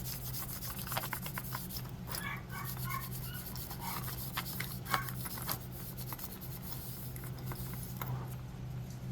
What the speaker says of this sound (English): So I'm going to put a little bit on my napkin and just oil.